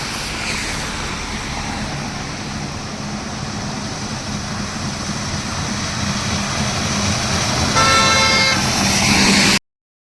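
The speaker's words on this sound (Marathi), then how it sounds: "गाड्या बघा किती फास्ट आहेत" Continuous roar of vehicles rushing past on a busy road beside a roadside tea stop, growing louder toward the end as a horn honks briefly before it cuts off.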